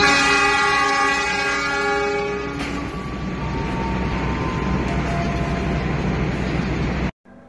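A passenger train pulls into a station, opening with a loud sustained horn blast that gives way to the rolling rumble and rattle of railcars, ending abruptly.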